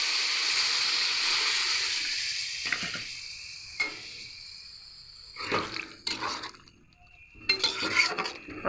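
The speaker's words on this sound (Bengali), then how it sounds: "এবারে পরিমাণ মতো জল দিয়ে দিচ্ছি।" Water is poured into a pan of okra curry, first as a bright continuous hissing splash, then as several short sloshing and stirring bursts against the pan, close up with no talk.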